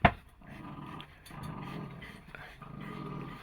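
Dogs growling and panting in a series of low rumbling bursts, close and fairly quiet, opening with a short sharp sound.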